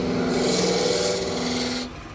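A lathe turning tool cuts wood near its larger diameter while shaping a ball and vase, giving a steady close rasping scrape that runs continuously and eases off near the end, with no talk.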